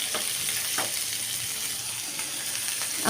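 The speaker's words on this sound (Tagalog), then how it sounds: "Gisa lang po natin sila ng malala." Shrimp sauté in a hot pan with a steady, close sizzle and hiss. A few light stirring scrapes recur through it, and no voices are heard.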